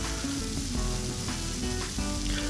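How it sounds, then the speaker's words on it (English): Loud, continuous sizzling of stir-fry vegetables frying in a hot cast iron pan, with a few soft stirring scrapes. "this was sizzling really loud"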